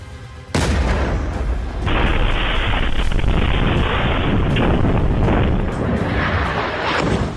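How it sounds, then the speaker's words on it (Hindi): Rocket explosions destroy an Israeli tank and a bulldozer in a southern Lebanon war zone: a sudden loud blast bursts in after a short silence, then a dense, sustained roar of rumbling detonations and crackling debris, with no voices. "हिजबुल्लाह ने इजराइल के एक टैंक और बुलडोजर को रॉकेट से उड़ा दिया।"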